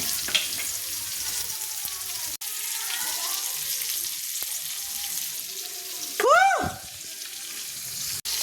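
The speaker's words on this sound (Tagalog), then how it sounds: "Prito bagya yung ating kamote." Sweet potato sizzling in a frying pan for Filipino togue, a steady broadband hiss with faint stirring and a brief rising whistle-like sweep near the end.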